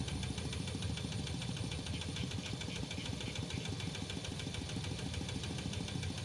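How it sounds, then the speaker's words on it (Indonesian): A rice paddy tractor engine chugs steadily at idle, a loud, rhythmic knocking rumble that continues without pause, while working a narrow plot of sticky soil. "nonton traktor sawah ya lur"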